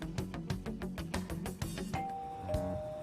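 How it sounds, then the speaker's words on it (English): A doorbell rings repeatedly in Persona 5 Royal, rapid rhythmic buzzing pulses for about two seconds giving way to clear ding-dong chime tones, fairly quiet with no talk. "Even Boss would have woken up with how many times we've rung this doorbell."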